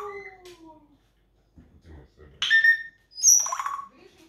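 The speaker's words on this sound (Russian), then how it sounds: "это кошечки тогда мяукают" A cat lets out a couple of high, wavering meows at close range between quiet pauses, with a few softer sounds beforehand.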